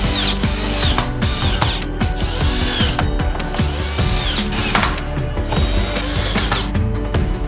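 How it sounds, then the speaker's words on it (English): A power screwdriver drives screws into an LED street light's lamp cover and body, giving a loud, continuous ratcheting whir with repeated clicks and metallic clatter from close by. "Use screws to install the lamp cover to the lamp body."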